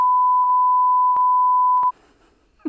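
A steady, loud pure-tone censor bleep holds for nearly two seconds over a spoken word, then cuts off to a quiet room where a brief voice fragment follows.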